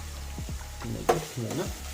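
Onions sizzle and fry in a pan while being stirred for gobi manchurian, with scraping spoon strokes and a sharp clack over a soft, close crackle.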